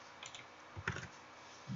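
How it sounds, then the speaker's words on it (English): Quiet, sparse keystrokes on a computer keyboard, a few light clicks in a short burst, close and soft with no talk. "let go of the mouse and type 10 apostrophe enter."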